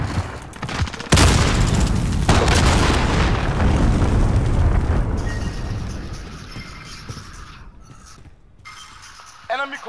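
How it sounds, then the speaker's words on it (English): Massive cruise missile blasts in a video game: a huge booming explosion hits suddenly, followed by a second blast and a long rumbling decay with crackling debris, loud and close. "Enemy cruise missile incoming."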